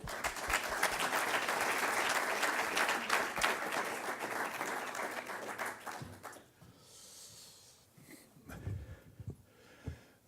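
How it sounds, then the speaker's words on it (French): A crowd applauds loudly for several seconds at a facility inauguration ceremony, then the clapping fades out, leaving a few thumps and shuffling noises. "Votre applaudissement, s'il vous plaît."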